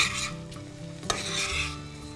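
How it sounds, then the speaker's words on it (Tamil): Paneer and soaked basmati rice stirred gently together in a hot pan, a steady close scraping and soft sizzle with one brief clatter partway through, no voices. "பன்னீரையும் சோக் பண்ணி வச்சிருக்கிற பாஸ்மதி ரைஸும் இப்ப சேர்த்துடலாம் ஒரு ஜென்டில் மிக்ஸ் கொடுத்துறலாம்"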